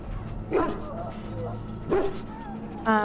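A dog barks twice, clearly and with space between the barks, as a painted war hound in the video game Dragon Age Origins, with a soft background hum and a short sharp sound at the end.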